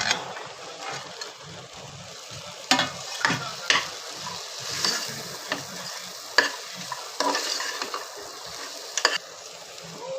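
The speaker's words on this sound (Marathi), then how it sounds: "मी त्यात कढीपत्ता टाकते. स्वच्छ धुवून घेतलेल्या भाज्या त्यात टाकते." Vegetables and curry leaves fry in a hot pan while a spoon stirs them, giving a soft steady sizzle broken by repeated scraping clatters, close and moderately loud.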